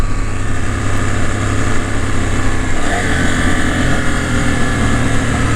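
KTM 790 Adventure motorcycle riding Isle of Man mountain roads, its engine droning steadily up close with a quick throttle blip on a downshift partway through.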